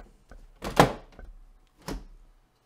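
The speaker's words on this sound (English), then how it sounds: "I'm just going to take off the" A desktop PC case side panel is handled and pulled off, giving a few separate plastic-and-metal knocks and thunks, one louder clunk followed by a softer one, close by with no talk.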